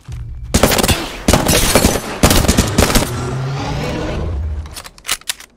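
Gunfire rattles through an Apex Legends match: loud, sharp bursts of rapid shots come in several clusters, with brief gaps and a lingering tail between them. No voices are heard.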